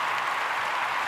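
Brief burst of steady, dense clapping from a small group, loud and continuous with no voices, on a cozy cottage crochet podcast.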